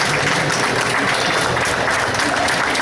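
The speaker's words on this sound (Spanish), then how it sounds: "Vero es una ingeniera recién recibida que se merece un aplauso" An audience gives dense, sustained applause at an event honoring a newly graduated industrial engineer, loud and continuous throughout.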